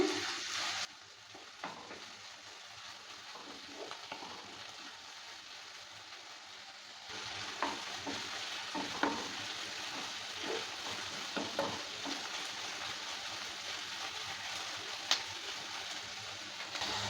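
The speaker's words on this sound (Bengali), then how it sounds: "পেঁয়াজটা দেওয়ার পর ভালো করে আবারও নেড়ে চেড়ে নিচ্ছি" Chopped onion and capsicum frying in a pan for paneer bhurji, a quiet hiss that grows louder partway through, with intermittent scraping and tapping of the spatula as the pieces are stirred, no voices.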